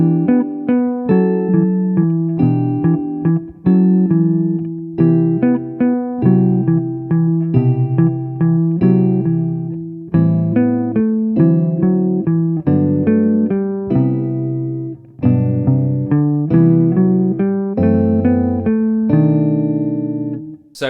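A jazz recording in 3/4 time, with close, steady melodic notes in a lilting waltz rhythm that keeps going without pause and has no talking.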